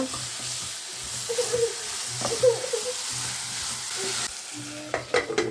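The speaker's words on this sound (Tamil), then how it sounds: "கேரட் நல்லா வதங்கி வரட்டும். நல்லா கிண்டி விட்டுக்கிட்டே இருங்க." Carrots sauté in a hot pan for a carrot chutney, giving a steady soft sizzle under repeated scraping stirs of a spoon against the pan, with a few sharper clinks near the end.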